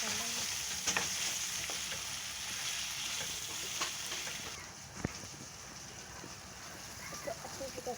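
Eggs frying in masala in a pan for an aloo anda curry, a steady close hiss of sizzling oil with scattered light spatters and one sharp utensil knock, no one speaking.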